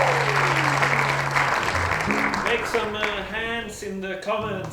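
Applause from listeners after a song at a quarantine concert, a steady wash of clapping throughout with tonal sounds and a voice talking over it in the second half.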